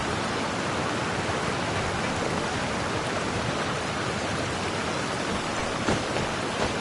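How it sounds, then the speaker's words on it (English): Heavy rain falls in the Genshin Impact video game, a dense, steady, loud hiss of downpour that fills the whole stretch without a break. "This heavy rain must be quite an inconvenience for you."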